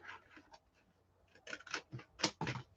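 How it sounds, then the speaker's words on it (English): Scissors snip through piano paper in short, crisp cuts, a few quiet isolated snips followed by a closer cluster of rapid crunching slices. "So I'm going to cut this across"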